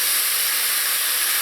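Pigtails frying in caramelized sugar give a loud, steady, close sizzling hiss with no pauses.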